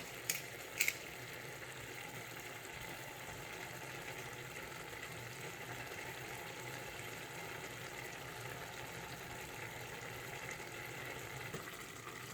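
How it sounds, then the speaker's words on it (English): Cabbage with black pepper, cumin, thyme and curry powder simmering in a covered pot, giving a steady, soft bubbling hiss throughout after two brief clinks near the start. "Let it boil for the next 20 minutes or until the cabbage is almost fully cooked"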